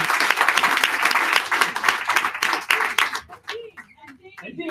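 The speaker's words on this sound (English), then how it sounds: "Can we get a big round of applause for Dan?" Dense audience applause at a graduation ceremony, a steady wash of many hands clapping that thins out after about three seconds into scattered claps and a voice.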